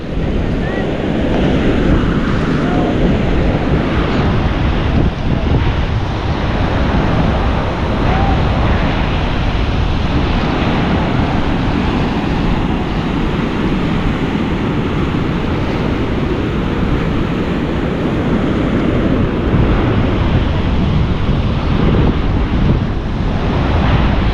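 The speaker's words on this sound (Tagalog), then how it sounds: "Grabe din ang alon doon sa malayo." Ocean surf rolls in steadily at night off Cloud 9 on Siargao in the Philippines, a loud, continuous roar of breaking waves mixed with heavy wind buffeting the microphone, with no clear pauses throughout.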